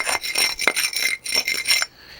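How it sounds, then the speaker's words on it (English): A brick hammer scrapes old mortar off a brick on a historic wall, giving a series of short, gritty rasping strokes close by for about two seconds before it goes quiet. "Take a brick hammer, we clean it off."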